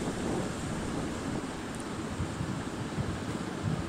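Steady, heavy wind roars continuously with dense low rumbling gusts, loud and unbroken throughout, with no voices.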